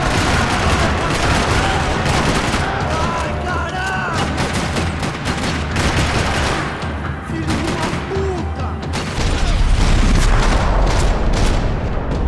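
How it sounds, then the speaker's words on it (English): Dense, continuous gunfire with rapid bursts and booms in Max Payne 3, a busy firefight in a parking lot filling the whole stretch, with a brief voice mixed in. "Another parking lot rattling with gunfire."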